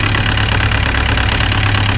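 A 2003 VW Jetta TDI turbo diesel engine idles roughly and steadily up close, a loud low rumble with an uneven knocking beat throughout and no voices.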